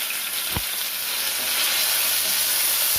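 Curry leaves hit hot oil with mustard seeds and dried chillies, producing a loud, continuous hissing sizzle close up, punctuated by a couple of sharp pops.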